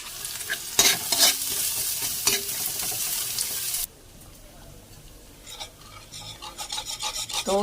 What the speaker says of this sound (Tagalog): Frying na.